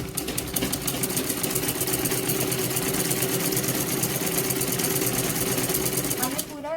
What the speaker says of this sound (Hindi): फिनिश होने तक इसी तरह सिलाई करते रहना है